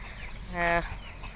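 Chickens at a rural home farmyard, with one short, clear cluck-like call standing out over steady outdoor background noise.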